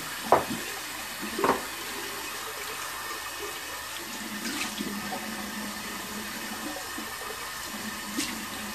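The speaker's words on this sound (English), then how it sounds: "I'll get some cold water running." A cold-water tap runs in a steady, moderate stream, with a few sharper splashes and knocks near the start and occasional clinks later.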